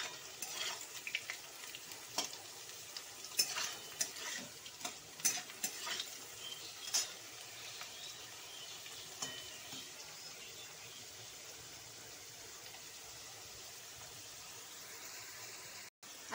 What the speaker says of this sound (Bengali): এবার আমি দেবো আলু, আলুগুলোকে ভেজে নেব ভালো করে।